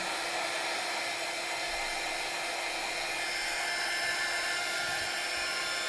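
A heat embossing tool gives a loud, steady whooshing blower hum that runs continuously throughout, close up and unchanging, like hot air being pushed through a small tool.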